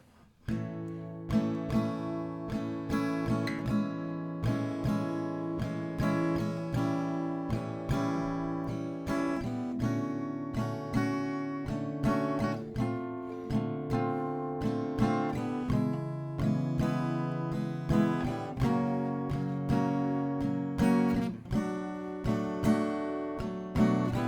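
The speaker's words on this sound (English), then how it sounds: "So if I illustrate the strumming pattern with the chord progression, it will sound like this." Rhythmic strummed acoustic guitar chords ring out steadily with sharp strokes, moving through a repeating verse progression from a song, close and alone with no voices.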